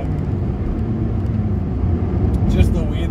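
A naturally aspirated Toyota MR2 Mk3 Roadster engine pulls hard under acceleration, a loud steady drone heard from inside the cabin with road rumble beneath it.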